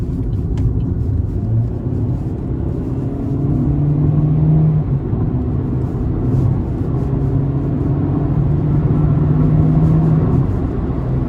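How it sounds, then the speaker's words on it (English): 2016 Chevrolet Spark non-turbo engine accelerating under throttle on an interstate, a steady close rumble and whir that climbs in pitch and holds, with road noise beneath. "But we're gonna give it some throttle here."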